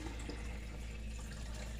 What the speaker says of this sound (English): I'm adding in the water.